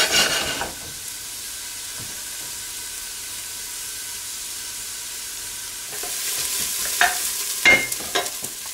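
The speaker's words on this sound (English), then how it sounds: "We're not frying the onions, just sweating them." Chopped onions sweat gently in a pan over low heat for a lamb tagine, a soft, quiet sizzle with occasional stirring scrapes and a louder clatter near the end.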